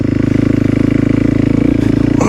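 A Kawasaki KLX300 dirt bike engine idles close by outdoors, a loud, steady rhythmic thumping with a slight rise in pitch toward the end.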